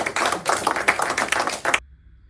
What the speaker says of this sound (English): just give a little clap for Fried Chicken Friday